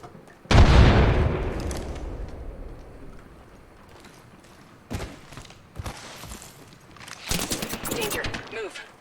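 Valorant gameplay with a big boom from a thrown grenade, its long rumbling tail fading, then scattered bursts of gunfire and sharp shots a few seconds later, with some game voice lines mixed in.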